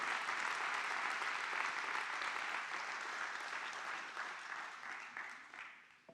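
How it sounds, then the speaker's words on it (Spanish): A church congregation applauds during a sermon, a steady wash of many hands clapping at moderate distance that gradually thins and fades toward the end. "dale ese aplauso."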